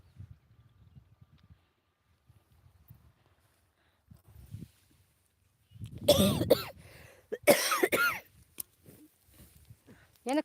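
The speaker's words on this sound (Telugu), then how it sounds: "దగ్గు వస్తుంది" A quiet rustling background in a chilli field while clearing grass from bunds, then two loud, harsh coughs in quick succession, followed by a few softer clicks.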